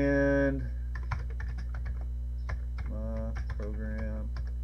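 Close, crisp keystrokes on a real Commodore 64 keyboard tap out an irregular sequence over a loud steady electrical hum, with a few short tonal beeps or voice-like bursts in between.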